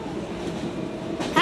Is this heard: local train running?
yes